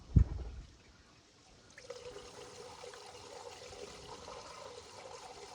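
Clean diesel, run through a water separator, poured into a large fuel filter on a truck: a soft, steady trickle of liquid that starts after a brief knock and runs on quietly and evenly to the end.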